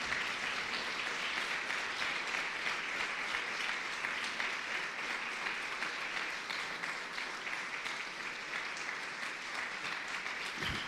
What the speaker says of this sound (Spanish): Dale un aplauso fuerte, fuerte, fuerte al Señor.